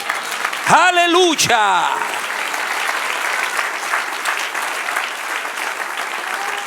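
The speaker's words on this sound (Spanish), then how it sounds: "Dale un aplauso al que vive." A church congregation bursts into sustained applause right after a loud shout of praise, the clapping dense and steady, filling the room for several seconds.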